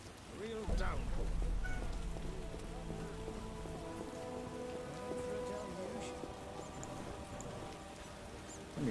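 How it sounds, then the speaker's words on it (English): Heavy rain pours down steadily in The Witcher video game, a dense constant hiss with a louder swell near the start, with game music tones and scattered sounds layered over it. "Real downpour."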